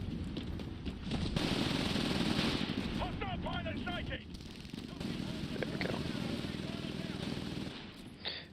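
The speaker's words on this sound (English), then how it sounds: "what I'm using right now is the SMG" Sustained SMG fire in the Titanfall video game rattles in long continuous bursts with game noise around it, while someone speaks over the shooting.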